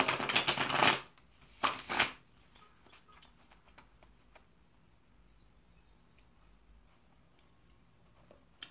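Two quick bursts of tarot cards being riffled and shuffled close by, followed by soft faint handling sounds and light ticks in a quiet room.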